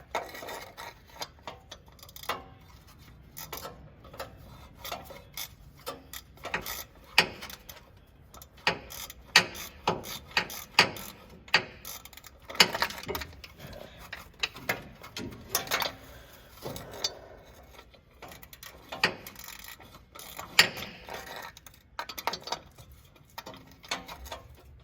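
Socket ratchet with a deep socket and extension clicks away under a 1969 Mercury Monterey during brake and exhaust work, quick irregular bursts of ratcheting with metallic clinks throughout, fairly close.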